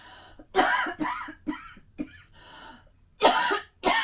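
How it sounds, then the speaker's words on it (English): A run of dry, rough coughs and throat-clearing sounds, several in quick succession with short pauses, close and moderately loud. "I'm going to cough, excuse me"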